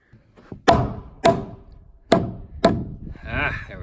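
A hammer knocks on wood in four sharp, close blows spaced roughly half a second apart, followed by a brief scraping, rattling sound.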